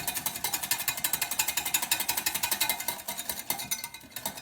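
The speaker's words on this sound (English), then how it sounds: "just grab your whisk and just give it a good whisk up" A whisk beats pancake batter in a measuring jug, a fast steady rhythm of rapid metallic clicks and taps against the sides, close and continuous with no talking.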